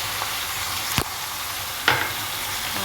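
Chicken pieces fry in hot oil in a pan, giving an even close sizzle broken by two sharp clinks of a utensil against the pan, with no voices.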